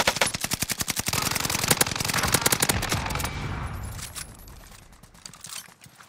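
Rapid unsuppressed automatic gunfire in a Pacific-theatre shooter game, loud sharp rounds in a fast steady rhythm for about three seconds, then thinning into scattered, fading shots and quieter ambience.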